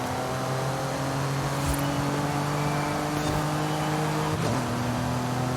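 Porsche race car engine roaring steadily in the Forza Horizon 5 video game, a loud continuous drone whose pitch holds and then shifts briefly near the end, with no talking.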